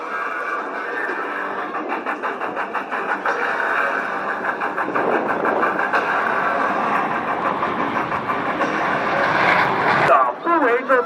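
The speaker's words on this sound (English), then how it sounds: "He will execute a very precise slow transition as he accelerates his aircraft to 300" A Blue Angels jet at the Thunder Over Utah air show accelerates toward 300 miles per hour, a loud, sustained roaring engine rush that builds and then cuts off sharply near the end, with an announcer talking over it.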